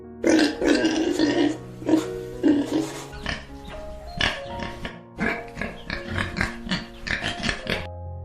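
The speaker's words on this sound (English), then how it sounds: "pig" A pig oinks and grunts repeatedly in short snorting bursts, close and fairly loud, with background music underneath.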